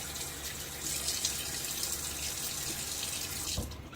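Tap water runs steadily into a sink as a man wets his face before lathering for a shave, a continuous hiss with a brief splash near the end.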